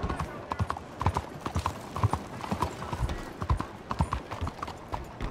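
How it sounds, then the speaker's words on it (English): Horse hooves clip-clopping in a video game, a steady, fairly close walking rhythm of hollow knocks under people talking. "You ought to take care of that horse there."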